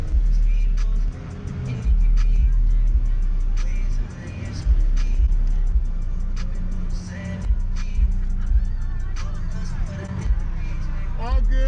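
Low-powered Mazda RX-8 at a Sonoma Raceway drift event, its engine running in a loud steady drone with periodic thumps, heard from inside the car beneath continuous talking.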